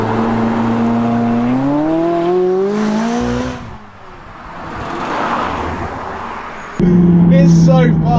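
McLaren 570GT sports car engine rising in pitch as it accelerates through a gear, dropping away, then surging again with a loud close roar, heard from inside the car.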